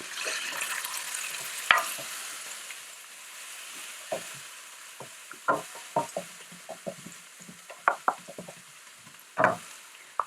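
Lots of garlic sizzles in hot oil as it is stirred for coconut cilantro lime rice, giving a soft continuous crackle broken by frequent scraping knocks of the spoon against the pan, close and steady, no talking.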